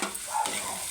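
Oil frying and being stirred in a pan with salt and turmeric for onion samosa filling, a steady close sizzle with scraping stir strokes throughout, no talk.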